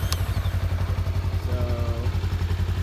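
A Honda Rebel 500 with stock exhaust runs with a fast, loud, throbbing engine pulse, close up, just after starting, with no talk over it.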